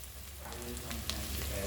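Onions and garlic hit a pan for risotto, a soft sizzle that builds in the first moments and holds steady and fairly faint, with a few light clicks.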